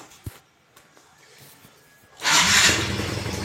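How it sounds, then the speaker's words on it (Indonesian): Motorcycle engine starting after reassembly: a few quiet clicks and cranking, then the engine catches abruptly and settles into a loud, steady running roar close by. "Oke, ini kita coba nyalakan,"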